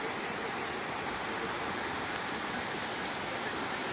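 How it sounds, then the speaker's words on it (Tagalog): Heavy rain pours down in a steady, dense hiss at a covered rest spot outdoors, unbroken and even throughout, close and moderately loud with no talk. "Lakas ng ulan."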